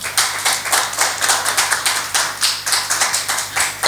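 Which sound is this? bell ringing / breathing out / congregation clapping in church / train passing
congregation clapping in church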